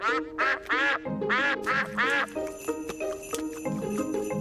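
Several nasal, cartoonish duck quacks from a Peppa Pig cartoon parody in quick succession, followed by bright jingling and tinkling tones with a soft melody underneath.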